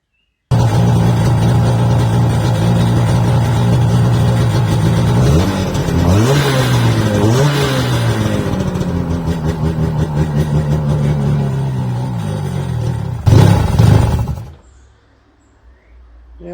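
A rebuilt jet ski engine runs loud and close, idling roughly before several rising revs that climb and fall, then settling and cutting off near the end; a voice speaks briefly.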